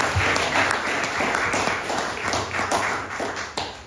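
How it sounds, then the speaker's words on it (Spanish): An audience at a book presentation event gives hearty applause, a dense, close burst of clapping that fades slightly toward the end, with no talking over it. "Fuertes palmas para él."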